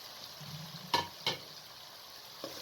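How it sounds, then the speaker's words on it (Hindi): Okra frying in a pan, stirred gently with a spoon: a soft low sizzle with a couple of sharp scrapes and clicks of the spoon against the pan, fairly quiet throughout. "हल्के हाथ से आपने चम्मच चलाना है कि भिंडी टूटे ना।"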